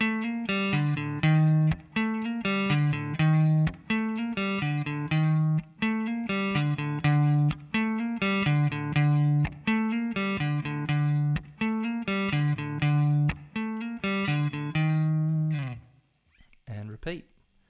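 Guitar plays section A of a song as a repeating, rhythmic riff of plucked notes and chords, moderately loud and alone, ending with a few scattered notes.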